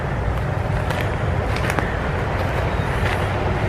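Near a roadside, a continuous broadband rumble of traffic rolls on, with a few brief louder swells as vehicles pass close by and no talking.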